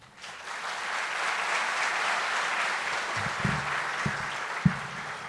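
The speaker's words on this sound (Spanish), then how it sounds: "Un fuerte aplauso." Sustained applause from a conference audience at a global education and technology congress, a dense, steady wash of clapping lasting several seconds, with a few sharper individual claps standing out near the end.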